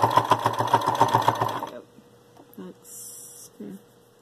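A sewing machine stitches a seam on a fabric bowl cozy, a fast rhythmic close whirring for about a second and a half, then stops, followed by a few faint handling clicks.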